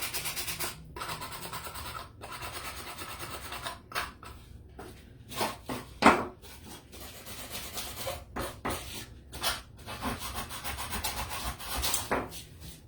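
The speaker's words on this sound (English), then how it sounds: "Oh, I didn't sand this back here." Wood on a handmade Christmas sleigh centerpiece is hand-sanded with a worn sanding block in quick, irregular scratchy rubbing strokes, close up, with a few brief pauses between bursts.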